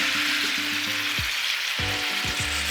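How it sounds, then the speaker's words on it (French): White wine is poured into a hot pot to deglaze it during the making of a Bresse chicken in cream, giving a loud, continuous sizzle with bubbling bursts and a few scraping knocks. "Et on déglace."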